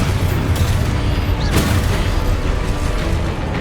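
The Exposo explosion spell in Hogwarts Legacy makes a loud, dense rumbling boom with mechanical crackle that sustains throughout, a sharper burst standing out midway.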